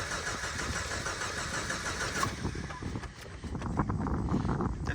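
A Jeep engine cranks and then catches and starts running, a quiet, rough mechanical churning throughout the short stretch, with faint talk in the background.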